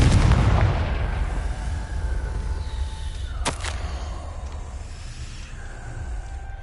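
Confringo blasting spell explosion in the video game Hogwarts Legacy: a loud opening boom fades into a rumbling tail, followed by a sharp secondary crack and lingering magical shimmer.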